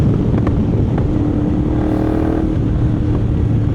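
A BMW GS 1300 motorcycle rides along Mulholland Highway, its engine a loud, steady drone under heavy wind rush, with a slight rise in revs midway.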